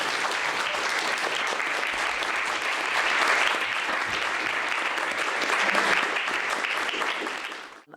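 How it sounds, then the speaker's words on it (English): An audience at a 2024 Monterey County high school mock trial final applauds the student attorneys, a steady, even wash of clapping from many hands that fades out at the very end. "everybody wants to applaud these professional level attorneys"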